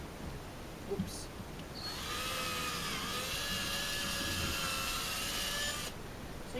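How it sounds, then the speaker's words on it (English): A high-pitched whining drill bores a hole in wood, running steadily for several seconds after a brief start, close and fairly loud. "You just want to drill a hole so that you can glue your stem in."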